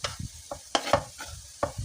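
Squeezed minced meat frying in a pan with a spoonful of tomato paste, heard as a soft sizzle under quick, rhythmic stirring and scraping strokes, close and fairly quiet, with no talking.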